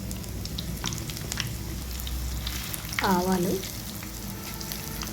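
Garlic, dried red chillies, cumin and mustard seeds sizzle in hot oil left over from frying ivy gourd for a pickle tempering, a steady crackling hiss with someone briefly speaking over it.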